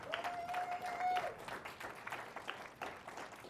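Audience applause for a middle school team at a Battle of the Books reading contest: scattered, moderate clapping in a hall after a steady tone at the start, thinning out over a few seconds.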